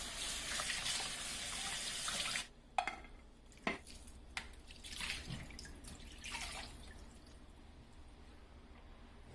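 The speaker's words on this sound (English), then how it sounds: "Next, I'm going to wash the fish and get every other thing ready." Tap water runs steadily into a kitchen sink while fish is washed for ogbono soup, a continuous splashing flow broken by a few sharp knocks and drips as the stream shifts, with no talking.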